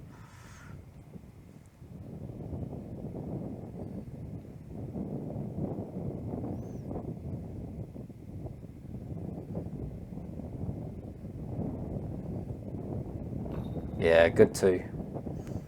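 Wind buffets the microphone on a hilly disc golf course at Bethells, a soft, steady low rumble with gusts that swell and fade, and a brief spoken remark near the end.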